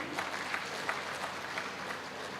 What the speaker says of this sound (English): kindly give a big round of applause to our IPDG